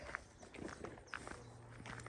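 Footsteps on a forest trail climbing up and down hills, a few soft scuffing steps with light crunches heard close by over quiet outdoor ambience.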